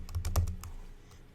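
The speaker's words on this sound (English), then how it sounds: "We're going to come up to the top of the page here at the top of the search bar and type in" A computer keyboard clicks out a quick burst of about six keystrokes into a search bar, close and fairly soft, then falls quiet apart from one last faint tap.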